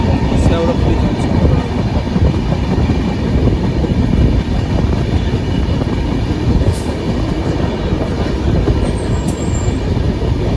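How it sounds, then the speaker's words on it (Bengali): The Howrah-Balurghat Express rolls along toward Sheoraphuli Junction in a loud, continuous rumble of wheels on rails, with faint clatter and brief squeals layered over the steady drone. "ট্রেন এখন ছেড়ে চলেছে শেওড়াফুলি জংশন।"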